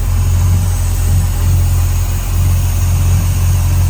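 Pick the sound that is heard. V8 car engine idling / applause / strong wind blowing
V8 car engine idling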